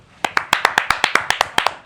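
About a dozen sharp, evenly spaced claps ring out in quick rhythm for a guest arriving in a studio on an election results night. The claps are close and distinct, and no one is talking.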